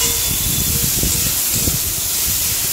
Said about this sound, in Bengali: এখন ভালো করে আলু আর পেঁয়াজটা ভেজে নেব